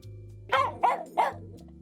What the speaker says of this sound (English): oh, it's my dog, Doyle.